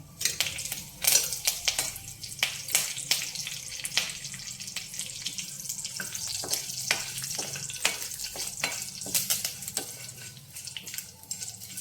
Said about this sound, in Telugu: అయిపోయింది తాలింపు, మంచి సువాసన వస్తుంది.